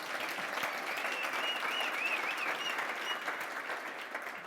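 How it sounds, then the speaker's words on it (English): Audience applauding a guest at an institute launch event, a sustained wash of clapping from a crowd, moderately loud and even, with a faint tonal sound riding over it. "Can we really give him a round of applause, please?"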